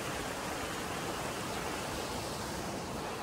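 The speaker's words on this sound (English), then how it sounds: "I'm sitting here next to this little creek." A small creek runs beside a hiking trail in Washington, a steady broadband rush of flowing water close by with no pauses and no voices.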